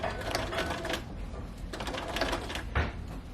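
A sewing machine runs in quick mechanical bursts, a rapid rattling stitch that pauses and restarts, close and moderately loud.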